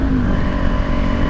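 A motorcycle engine drones steadily while being ridden, loud and close, with a constant low rumble and wind noise.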